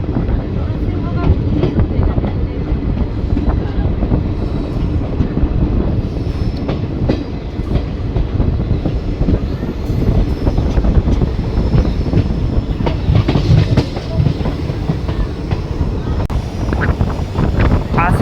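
Train rumbling steadily through the forest of Buxa Tiger Reserve in the Dooars, a Siliguri–Bamanhat InterCity Express, heard from inside with continuous loud wheel noise, rattling carriages and wind buffeting.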